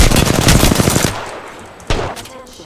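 Rapid automatic gunfire in the battle royale game Apex Legends, a loud dense burst of shots for about a second, then quieter game noise and a single sharp crack near the end.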